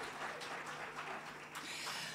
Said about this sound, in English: Can we get a round of applause for our nominees for Best Newcomer of the Year?